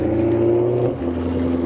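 A BMW E92 M3 car engine idles and pulls away, a steady low rumble with tonal hum that shifts pitch as it moves off, no voices.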